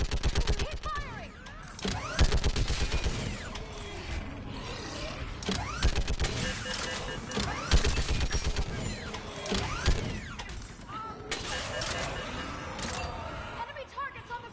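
Repeated mechanical gunfire bursts in the shooter Mass Effect 3 during a pitched fight, rhythmic volleys with metallic clanks, mixed with shouting voices and battle noise across the scene.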